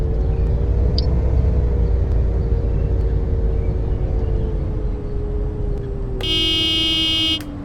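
The horn of a 12-metre high-floor Crossway Line 12 bus sounds in Bus Simulator 21. It is one loud, buzzy blast of about a second near the end, over a steady engine drone and rumble.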